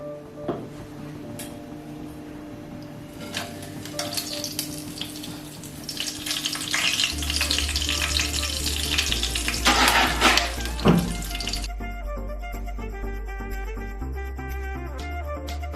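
Spices frying in leftover fish-frying oil and ghee for king fish biryani, a loud sizzle swelling and crackling through the middle, with clinks and stirring, fading into quieter background noise.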